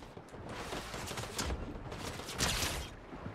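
Rapid automatic-weapon fire from the Fortnite video game rattles in dense, continuous bursts over a constant background of game noise, with no talking.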